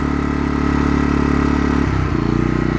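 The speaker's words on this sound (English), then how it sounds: "turn that off, and you can hear the RPMs pick up a little bit." Inverter generator running steadily at close range, its engine note stepping to a different pitch partway through as eco mode is switched off and the RPM rises.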